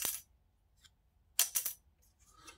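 A hard wooden violin bridge dropped onto a surface, giving a bright, clear ring followed by a few quick bouncing clicks, close and quiet with no talk.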